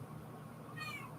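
A female house cat lets out a single short, close meow near the end, over a low steady room hum.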